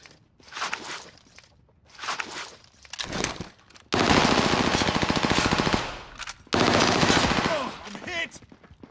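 Call of Duty: Modern Warfare gunfire, close and loud: short bursts of automatic fire with pauses, then two long sustained machine-gun volleys.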